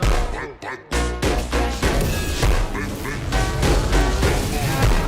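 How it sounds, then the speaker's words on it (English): Lightning sound effect from a Thor film: a dense, loud, continuous crackling roar with sharp bursts near the start, filling the whole stretch without pause. "That's the sound of lightning."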